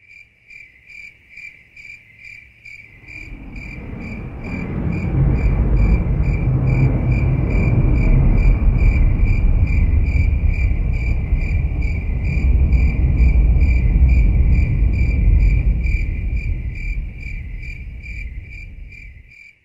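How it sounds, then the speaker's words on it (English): Crickets chirp in a steady high pulsing trill throughout while a deep rolling rumble of thunder swells in after a few seconds, builds loud and sustained, then fades slightly near the end; no voices. "separate crickets from a rolling of thunder in your acoustic perception"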